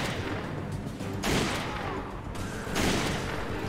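Bursts of gunfire in the video game Resident Evil 5, two loud, sharp volleys of rapid shots separated by about a second of quieter game ambience, with no voices over them.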